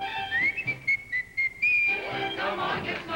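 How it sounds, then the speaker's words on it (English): Whistling in a 1957 television variety show song, a bright melodic whistled tune in short phrases over soft orchestral accompaniment, ending as the band swells. "come on, get smart, tune up and start to whistle while you work."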